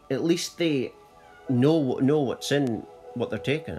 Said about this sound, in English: That's my cat, in case you didn't know what it was.